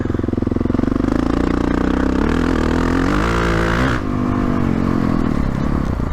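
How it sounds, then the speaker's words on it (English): Honda CRF450RL dirt bike fitted with a Rekluse clutch lugging in third gear off-road, a loud, close, low-revving engine chug that stays steady and then shifts slightly in pitch, with no talk. "So you could hear I was lugging."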